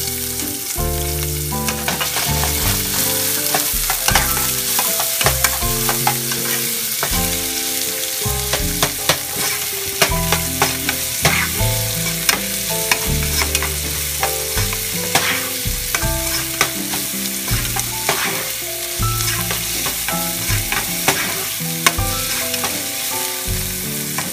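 Onions sizzle and crackle loudly in hot oil with cinnamon and cloves, a dense, continuous frying hiss with frequent pops and stirring scrapes.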